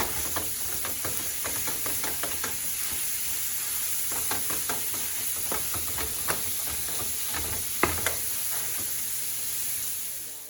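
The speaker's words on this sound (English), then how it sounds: "So break it up, and we're gonna brown this up" Ground beef browns in a pan, a steady close sizzle with scattered crackles and the scrape and clack of a utensil breaking up the meat, carrying on for the whole stretch without talk.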